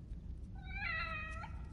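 A cat meows once, a single drawn-out cry with a rising then falling tone, heard clearly over a low background hum in the survival horror video game The Evil Within.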